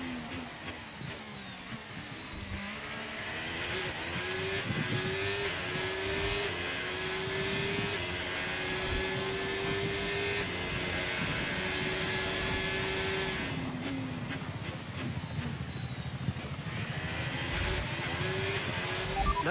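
Formula 1 car engine in the F1 25 racing game at Monza, revving high and climbing through gear shifts over a lap, steady and continuous with one brief dip in the middle, no talking.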